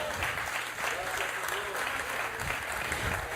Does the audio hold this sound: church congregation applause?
yes